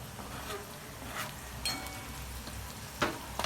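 Green chilies fry in a pan for sabudana khichdi, giving a soft, steady sizzle with a few faint stirring scrapes and clinks.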